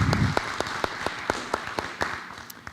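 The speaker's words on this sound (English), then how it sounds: "Let's give her another round of applause for Chair Board Cobb" Sparse clapping at a school board of education meeting: a handful of distinct, separated claps in an uneven rhythm, moderately close, after a brief low rumble at the start.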